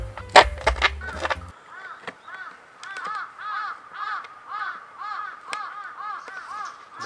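Crows cawing repeatedly outdoors in the countryside, a series of rhythmic harsh calls at moderate distance, preceded by a brief clatter of nearby handling noise and faint talk.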